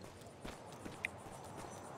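Horse hooves clip-clop in the Evil West video game, a few soft irregular footfalls under steady background ambience, with one brief sharp tone partway through.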